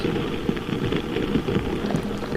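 Rain falling steadily over a garden, a dense even patter with scattered louder drops, close and continuous with no voices.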